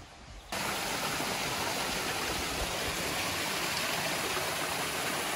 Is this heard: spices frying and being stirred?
no